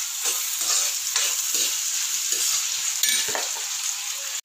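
Chopped onions frying in hot oil for street-style veg chowmein, a steady loud sizzle with occasional stirring scrapes throughout, with no talking.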